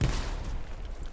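A grenade goes off in a multiplayer war video game, a single heavy blast at the start whose deep rumble rolls on and slowly fades, with no voices.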